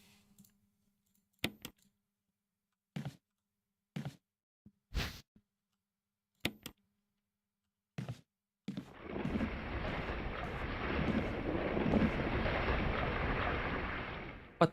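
Lightning strike in Resident Evil 1: several short sharp cracks spaced apart, then a sustained loud roaring rumble of thunder and rain-like hiss lasting several seconds.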